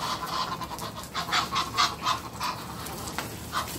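Several loud, nasal honks from Egyptian geese in quick succession at a geese farm in Florida, fairly close, with a final honk after a short pause.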